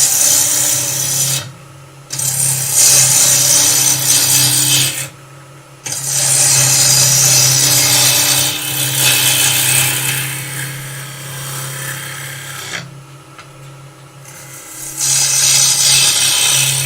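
A cutter on a wood lathe spinning at 2000 RPM rips into the turning wood with loud, harsh scraping and rasping. It comes in long sustained passes broken by short pauses, close up with no talk.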